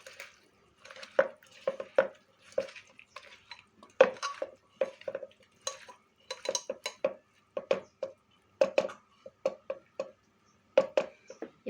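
Meat being mixed with oil in a metal pressure cooker, producing irregular clinks, scrapes and taps of a utensil against the pot, close and fairly quiet, with short pauses between strokes.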